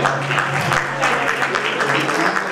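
Audience applause rises for a rider and horse at a horse show during the Tudorița horse Easter celebration in Târgoviște, a steady dense patter of clapping that lasts the whole short moment.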